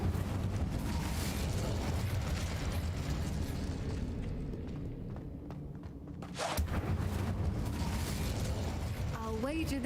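An Incendio fire spell is cast in Hogwarts Legacy, giving a dense, roaring whoosh of flame. It sustains for several seconds, dips briefly, then surges again, with faint game effects near the end.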